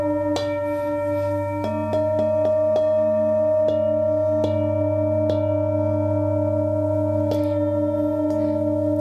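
Small singing bowl struck repeatedly beside someone's ears during a back massage, each strike ringing out in long, sustained, overlapping pure tones with a slow beating shimmer, loud and close.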